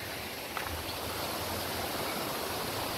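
Navlai waterfall roars as a steady, broad rush of falling water heard from a distance, continuous and even throughout with no voices.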